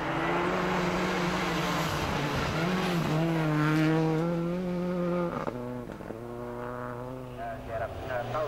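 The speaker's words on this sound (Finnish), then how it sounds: "Tapio Lauronen piiskaa Mitsua siihen malliin, että nyt nähdään uusi pohja-aika." A Mitsubishi rally car in a rallysprint race accelerates hard nearby, its engine note climbing through gears with a brief drop before revving up again.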